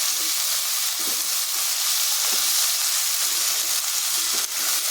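Mashed pointed gourd fries in a pan with a continuous, close sizzle and hiss, broken by faint scrapes and clicks of stirring, with no talk.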